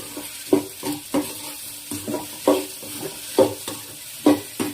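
Salted taro root frying in a pan is stirred in a steady rhythm, about ten distinct scraping strokes over a soft continuous sizzle, close and clear with no voices.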